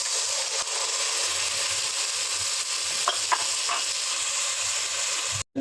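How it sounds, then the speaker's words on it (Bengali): Onions fry in a pan with cloves, cinnamon and cardamom for a duck curry, giving a continuous, even sizzle with faint stirring scrapes and a brief break just before the end. "পেঁয়াজটাকে আর একটু ভাজা ভাজা করতে হবে, একদম পুরার মতো"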